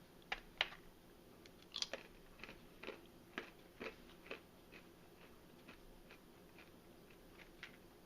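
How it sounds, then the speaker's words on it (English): Crunchy banana chips from a ready-to-eat trail mix are chewed in a quiet room, giving irregular faint crisp crunches and clicks spread over several seconds. "Good consistency on the banana chip, nice and crunchy, good flavor."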